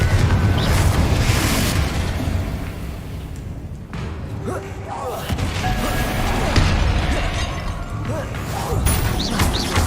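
Bombarda and Confringo explosion spells in the video game Hogwarts Legacy, dull booms and blasts repeating through busy combat noise, with a voice speaking over the fight.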